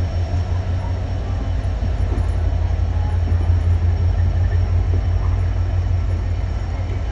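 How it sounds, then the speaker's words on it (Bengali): A passenger train pulls out of Joydebpur station in Bangladesh, bound for Dhaka Kamalapur, with a steady, loud, low rolling rumble and continuous wheel noise from nearby. "এই ট্রেনটি জয়দেবপুর স্টেশন থেকে ছেড়ে চলে যায়।"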